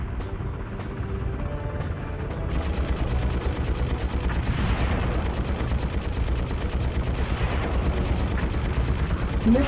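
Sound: gunfire in video game Fireblade

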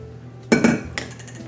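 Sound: putting food into a pan, pans and utensils clattering

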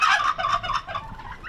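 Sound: turkey gobbling in response to whistling

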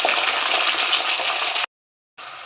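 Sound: cinnamon, cloves, curry leaves, chillies frying in oil

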